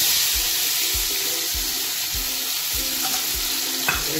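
Tomatoes tipped into hot oil and a browned tempering with fenugreek seeds for rajma, setting off a loud, steady close sizzle while the pan is stirred, with no voices.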